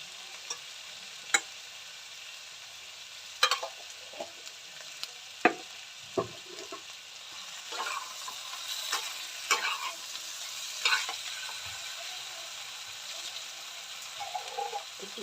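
Ginger and cumin paste fries for a singi fish curry with a steady soft sizzle. Sharp, irregular spoon scrapes and taps against the pan sound close by, with no talk.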